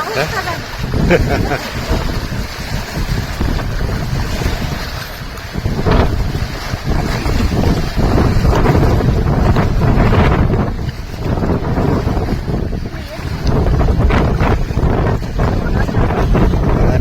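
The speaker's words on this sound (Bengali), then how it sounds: "দেখছেন নদীর তুফান দুকুলে আছড়ে পড়ছে" Stormy river waves in the Sundarbans on a rainy, windy day, with a continuous loud rushing of water and heavy wind buffeting the microphone, steady and close throughout.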